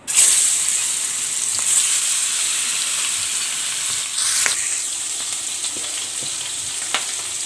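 Pangas fish sizzling in hot oil in a pan, a steady bright crackle and hiss with occasional louder spits, close up with no talking.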